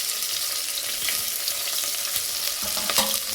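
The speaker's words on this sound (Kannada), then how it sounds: "ಅಷ್ಟು ಈರುಳ್ಳಿನೂ ಹಾಕ್ತಾನೆ, ಹೆಚ್ಚೆ ಈರುಳ್ಳಿನೂ ಹಾಕ್ತಾಯಿದ್ದೀನಿ" Garlic and chopped onion frying in hot oil for a sambar tempering give off a continuous close sizzle, with light scraping from stirring near the end and no talk.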